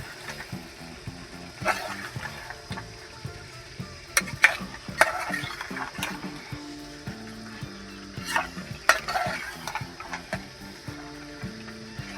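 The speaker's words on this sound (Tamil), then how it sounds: "கழுவி எடுத்து வச்சுருந்த மீனை இப்போ இந்த மசாலாலாம் ஓரளவு எண்ணெய் பிரிஞ்சு வந்ததுக்கு அப்புறமா மேலே போட்டு நல்லா கிளறி விட்டுக்கிறேன்" Fish pieces are turned through masala frying in oil, with irregular metallic scrapes and knocks of a spoon against the pot over a faint background hum and no talking.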